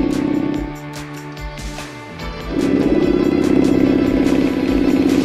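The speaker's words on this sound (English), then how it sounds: "That does not sound like a healthy engine." A boat engine in a Roblox game sounds rough and unhealthy, a loud low growl with rhythmic pulsing that dips briefly, then swells back to a strong steady drone.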